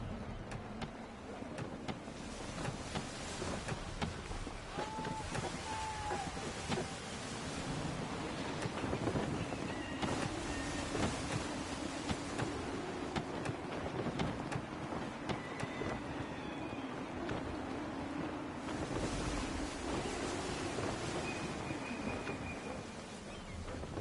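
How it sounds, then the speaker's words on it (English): Gusty wind whistles over open sea during sailing in Assassin's Creed 3, a steady broadband rush with surf and water wash beneath, holding at a constant moderate level for the whole stretch with no talk. "Gusty winds can be difficult to manage."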